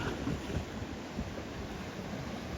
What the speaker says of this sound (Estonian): Sellised laineid, wow.